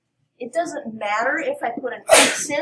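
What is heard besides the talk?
sneeze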